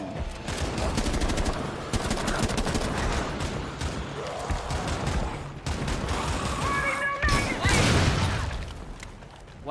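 Gunfire in Rainbow Six Siege's Outbreak mode comes as rapid volleys of sharp shots, loud and close, that keep going with short pauses, plus a brief ringing alert toward the end.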